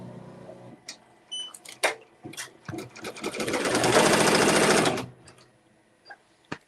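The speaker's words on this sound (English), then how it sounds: "I'm gonna push ready, and then I'm gonna get that stitching." An embroidery machine stitches a bling design, starting with a few short mechanical whirs, then running a loud, steady rapid stitching burst for about two seconds before stopping to quiet clicks.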